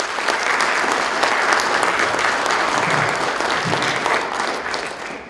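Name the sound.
audience applause for students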